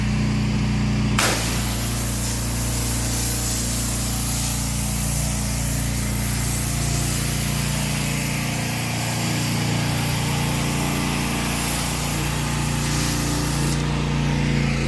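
A petrol pressure washer sprays a filthy driveway, its engine droning steadily beneath a loud continuous hiss of water jetting against concrete, with an abrupt start and no talk.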